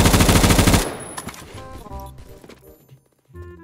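An M60 E6 light machine gun in a video game fires one loud, rapid burst lasting under a second, followed by quieter scattered clatter and distant shots.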